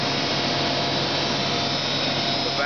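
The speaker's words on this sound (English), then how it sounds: "The vacuum tanker is filling himself" A vacuum tanker truck fills itself through 50 to 60 feet of 6-inch hard sleeve at a rural water supply drill in Baldwin County, Alabama, giving a loud, steady roaring suction drone that holds constant throughout, with no voices.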